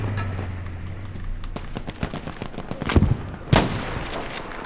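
Gunfire in the World War II shooter Battlefield V, with scattered sharp shots and impacts over a busy battlefield backdrop, one louder burst near the end standing out from the steady din.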